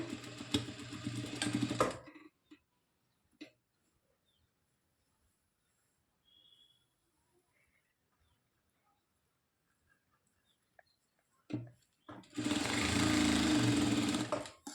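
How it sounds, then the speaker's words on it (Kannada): A sewing machine stitches a blouse in two short, loud bursts, one at the start and one at the end, with near silence and a few faint handling clicks between them. "ಈ ರೀತಿ ನೀಟಾಗಿ ಜೋಡಿಸ್ಕೊಂಡು ಒಂದು ಸ್ಟಿಚಿಂಗ್ ಅನ್ನೋದನ್ನ ಹಾಕ್ಕೊಳ್ಳಿ"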